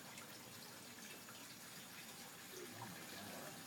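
Water being poured onto a floodplain levee model, giving a faint, steady gushing stream that runs without a break from start to finish.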